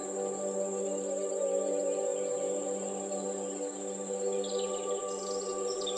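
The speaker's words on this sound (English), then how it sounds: "you can hear the amazing sounds of the crickets and other animals moving around" Steady, continuous chirping of crickets fills the air, even and unbroken, with a faint high bird call near the end.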